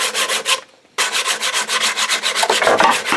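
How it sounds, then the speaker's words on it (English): A wood rasp knocks against a magnetic strip holding a bunch of tools, giving loud, steady scraping and rasping strokes with a brief pause before the rough rubbing resumes. "That was the wood rasp. A bunch of tools here stuck on a magnet strip."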